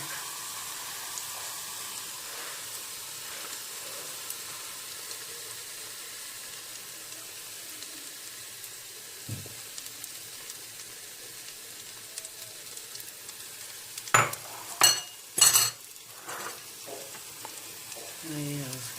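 Onion frying in a pan gives a quiet, even sizzle for most of the stretch, then near the end a few sharp louder bursts come as beaten eggs go onto the cooking onion.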